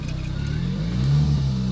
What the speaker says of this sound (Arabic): راني نوضت السيارة